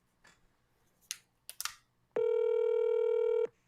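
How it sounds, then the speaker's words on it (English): A phone call is being placed: a few soft taps and clicks, then a single steady electronic tone holds for just over a second, close and clear. "Yo, I got Wack on the phone."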